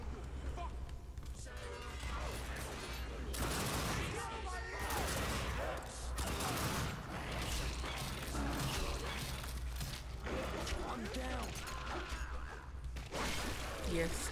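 Gunfire in The Darkness 2 video game, sustained bursts of shooting and heavy impacts over a constant roar of game noise, with a voice talking over parts of it.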